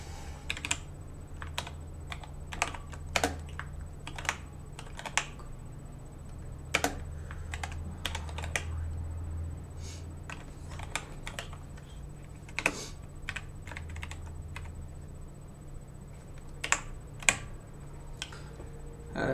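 Steady run of crisp keystrokes on a computer keyboard as code is written, close and moderately quiet, with short pauses between bursts and no voices.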